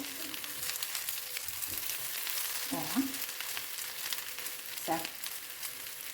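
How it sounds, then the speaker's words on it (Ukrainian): Soft, steady sizzling of an omelet frying in a pan, with a few light clinks and scrapes of a utensil. "То скоренько воно смажиться з одної сторони, з другої сторони."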